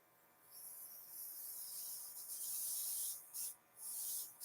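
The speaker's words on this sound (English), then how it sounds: "I'm going to spray them on my hand so we can see them." Cosmetic spray misted onto a hand, heard as a steady close airy hiss lasting several seconds, with brief breaks near the end.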